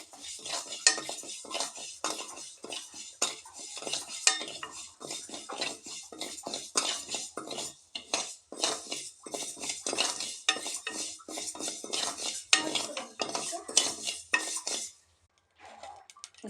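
Dry sago pearls (javvarisi) rattle and scrape in a hot kadai as a spoon stirs them constantly, a dense run of close metallic clinks and scratches that stops shortly before the end.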